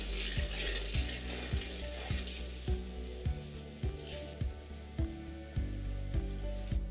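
Desi chicken pieces hitting completely browned onions in a hot pan, a steady loud sizzle with rhythmic scraping clanks of stirring roughly every second.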